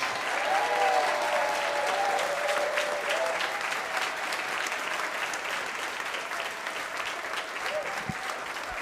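Comedy club audience at Gotham Comedy Club applauding at the end of a stand-up set: dense, steady clapping from a full room, sustained for the whole stretch with a faint murmur of voices underneath.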